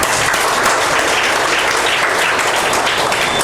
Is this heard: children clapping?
yes